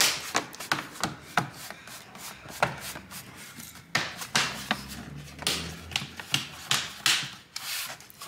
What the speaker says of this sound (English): Next up is putting the bottom cover back on.